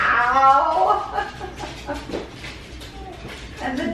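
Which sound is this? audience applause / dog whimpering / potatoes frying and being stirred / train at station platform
dog whimpering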